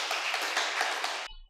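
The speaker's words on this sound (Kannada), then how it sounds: "ಆ ಬ್ರಹ್ಮಶ್ರೀ ಪಿತಾಮಹ ಪತ್ರಿ ಸಾರಿಗೆ ಜೋರ ವಂಚ ಚಪ್ಪಾಳೆ ಹೊಡೆಯೋಣ" Audience applause at a meditation and satsang gathering in Channapatna, a dense burst of many hands clapping together at close range, sustained evenly for over a second and then cut off sharply into near silence.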